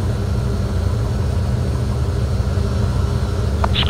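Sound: Tupolev Tu-134 jet engines at takeoff power

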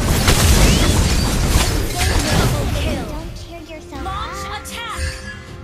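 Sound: explosion of a turret being destroyed in a video game

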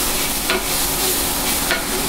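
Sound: stirring food in a frying pan

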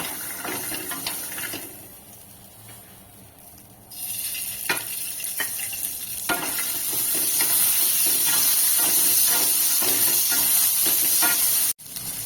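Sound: peas frying in oil in a pan

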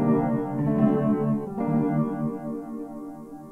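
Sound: piano processed with Ableton Spectral Time effect

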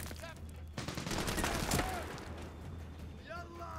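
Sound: gunfire in Medal of Honor: Warfighter video game

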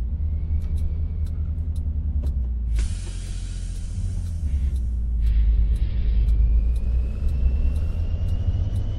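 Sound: Peterbilt 387 truck driving in video game Euro Truck Simulator 2

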